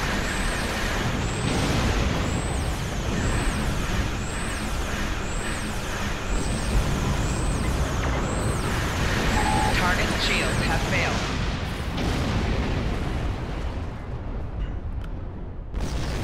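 Torpedo turret attack on a starship in Star Trek Online, dense continuous booming and rumbling fire with a steady train of repeating high chirping weapon sounds, loud and sustained, with speech mixed in.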